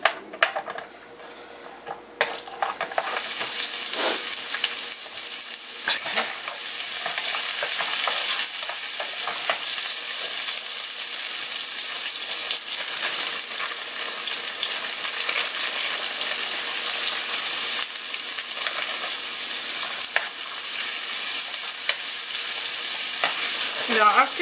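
Carrots and broccoli stems sauteing in a hot pan, a steady, loud sizzle with occasional stirring scrapes, continuing alone without talk.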